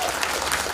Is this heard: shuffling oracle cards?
no